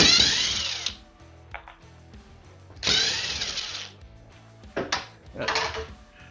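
Power drill removing two bracket screws from a ceiling electrical box during a ceiling light replacement: three loud whirring bursts, a long one at the start, another mid-clip and a closing pair, each with tool clatter between them.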